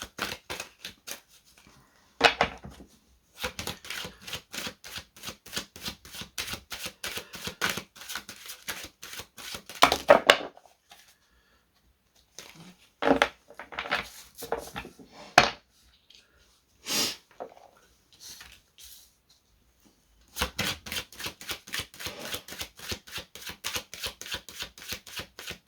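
Tarot cards are shuffled over and over in long runs of rapid, even flicking riffles, broken by pauses and a few louder slaps, close and clear with no talk.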